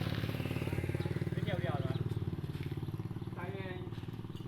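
A Kubota tractor engine runs steadily with a loud, rhythmic low throb, pulsing evenly close by while a voice talks over it during a gear change.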